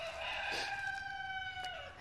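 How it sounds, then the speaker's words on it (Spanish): A rooster crows on a ranch, one long drawn-out call that holds steady for about two seconds at moderate distance, heard alone against faint outdoor background. "ese es un gallo que empezó a cantar nuevo"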